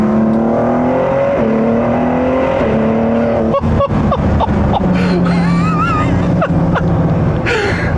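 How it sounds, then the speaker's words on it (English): A 2017 Ford GT accelerates hard at full throttle from inside the cabin, the engine note climbing loudly through the gears with brief shift breaks and steady road roar. "So I'm gonna floor it here real quick, just kind of see what happens"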